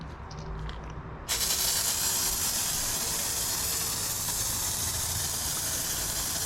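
A foaming pump sprayer lays down Ammo Frothe waterless wash: after a short quiet start, a loud, steady, close hiss of spray begins and continues unbroken.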